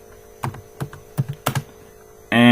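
Typing on a computer keyboard during Turbo Pascal programming: a handful of crisp, separate key taps close up over a faint mains hum, then a sudden louder tonal noise takes over at the end.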